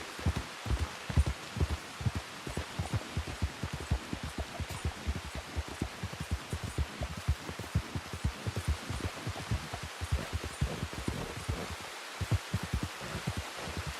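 Rain falls steadily on a northern landscape in Red Dead Redemption 2, a dense continuous patter with a low, throbbing rhythmic undertone, even and unbroken, with no voices.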